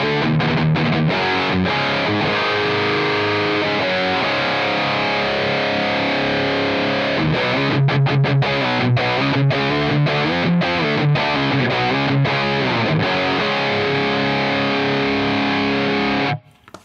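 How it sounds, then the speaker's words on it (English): Electric guitar played through a diode overdrive into a Mesa Boogie Triple Rectifier model in AmpliTube 5: loud, distorted sustained chords and choppy palm-muted riffs, ending abruptly in silence, with no talking. "let's use this just because it's there, a diode overdrive"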